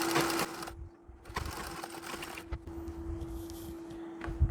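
A sewing machine stitches dhoti fabric in short runs of rapid, even needle chatter broken by brief pauses, with a steady motor hum beneath and occasional light handling clicks.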